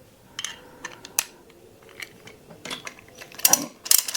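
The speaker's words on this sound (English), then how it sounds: "This is my old hex socket set." An old imperial hex socket set's ratchet clicks while working on an old motorbike in a garage, a series of quiet, crisp metallic clicks in irregular short bursts, getting busier toward the end, with no talking.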